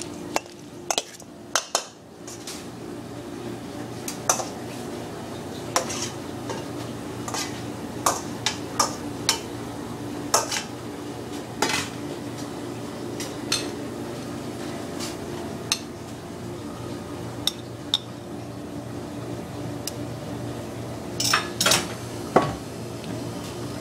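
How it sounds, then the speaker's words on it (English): Arugula is tossed with shrimp scampi garlic sauce in a bowl, producing a steady run of clinking, scraping utensil ticks against the bowl over a low constant background hum, with no talking. "toss it in there with the arugula. Give it a nice good toss"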